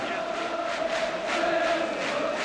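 Football crowd waiting in the sunshine at the Orient ground before a second division season opener, a steady broad murmur of many distant voices with no single voice standing out.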